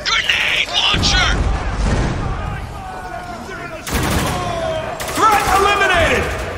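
Spec Ops: The Line combat, with grenade launcher blasts and bursts of rapid gunfire, loud and close, mixed with shouted voices and booming impacts.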